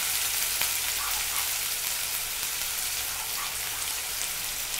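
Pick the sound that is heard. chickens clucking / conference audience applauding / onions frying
onions frying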